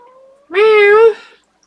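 A cat gives a single clear, close meow, loud and drawn out for about half a second with a rising then falling tone, preceded by a faint, quieter vocal note.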